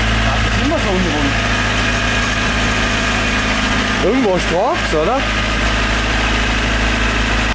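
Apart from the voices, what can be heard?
Honda 1.6 VTEC engine running at idle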